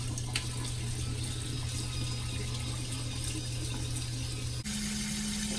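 Tap water runs steadily into a sink for hand-washing a face, a constant close splashing hiss with a brief change in the flow near the end and no talking.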